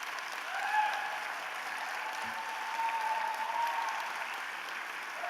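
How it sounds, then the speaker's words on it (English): Gala crowd at the Kansas City Convention Center claps for board members at an Emmy awards event, a sustained even applause from a large hall, moderately distant and without speech. "let's have a round of applause for the board members"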